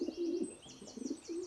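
Pigeons coo in a park in the Clarence cartoon: soft, low, throaty coos repeat in short bursts, with a few faint higher chirps above them.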